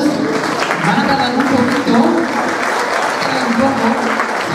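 Loud, sustained applause from a large audience at a municipal band's Christmas gala in Puntallana, steady clapping filling the whole stretch without a break.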